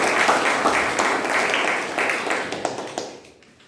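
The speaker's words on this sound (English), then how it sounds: "Let's have a round of applause." Audience applause fills a Toastmasters club meeting, a dense burst of clapping close to the microphone that holds steady and then tapers off toward the end.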